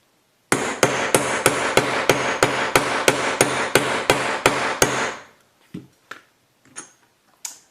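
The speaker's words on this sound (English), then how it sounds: "get my weighted rawhide mallet and hammer." A dozen sharp, evenly spaced strikes of a weighted rawhide mallet on a metal ring and hoop press in quick succession, loud and close, followed by a few softer scattered knocks.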